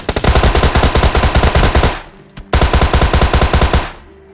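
Automatic gunfire in the mobile shooter PUBG Mobile Lite: two loud, rapid bursts of evenly spaced shots, each lasting about two seconds, separated by a short gap with a single click, close and dominant.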